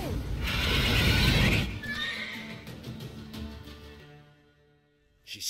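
A mare in The Witcher 3 lets out a loud, shrill neigh that turns into a screaming whinny, followed by thudding hoof movement and rustling, then a brief sharp noise at the very end.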